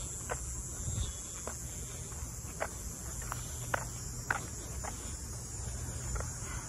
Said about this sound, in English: I've always liked the sound of these bugs.